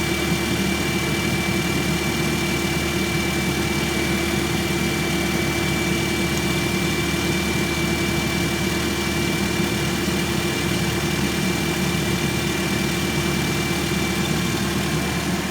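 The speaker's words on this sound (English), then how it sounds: "Now the engine is running." Toyota Corolla Matrix engine idling steadily nearby with the heater fan on full blast, a constant low hum and whirring drone without variation.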